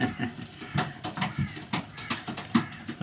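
Young pigeons, including a small blue pied bird, give soft repeated coos and rustles while being handled close by, with brief low murmurs mixed in.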